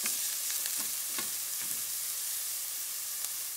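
Shallots, lemongrass, ginger and Thai chilies sizzle steadily in a pan, a dense, even frying hiss with a few soft stirring scrapes early on, close and alone without any talk.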